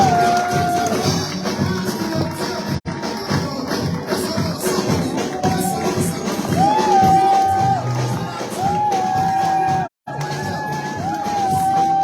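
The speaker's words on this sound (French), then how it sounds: "Acclame très fort." A church congregation cheers and acclaims loudly during a worship service in a sustained, dense crowd roar of shouts and whoops that runs almost the whole time, with only brief breaks.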